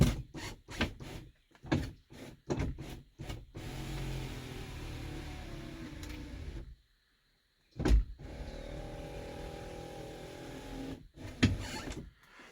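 Rear power window motor of a 1978 Mercury Marquis Brougham 400, worn and due for a gear kit, whirring in repeated strained runs broken by clicks and thuds, with a brief silent gap midway.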